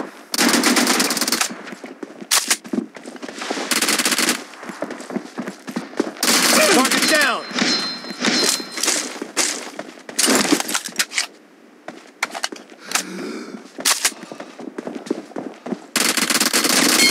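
M416 rifle fire in PUBG Mobile rattles out in loud, rapid automatic bursts separated by short pauses, with voices talking between and over the shots.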